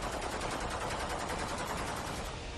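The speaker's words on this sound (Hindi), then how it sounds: "विद्रोही हवा में फायरिंग कर खुशी जता रहे हैं।" Celebratory gunfire fired into the air by rebels in Damascus, a dense continuous crackle of rapid overlapping shots from several weapons, steady and fairly loud, mixed with general crowd noise and no clear speech.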